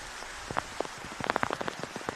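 Rain falls during a women's first-grade football match, a steady wash of drops striking nearby surfaces with scattered louder individual splats, heard alone without talk.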